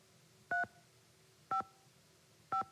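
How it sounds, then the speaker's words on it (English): Telephone dialing tones in a Nancy Drew mystery game: three short, clean keypad beeps spaced about a second apart over quiet background, with no talk. "That's just a phone sound effect."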